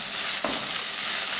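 Masala sizzling and frying in a pan for a Kerala-style okra (vendakka) curry, a steady close hiss with a brief stir around the middle.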